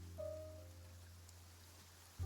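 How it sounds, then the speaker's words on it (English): Rain falling in the video game Genshin Impact, a faint steady patter of drops over a low constant hum, with no voices. "It's raining."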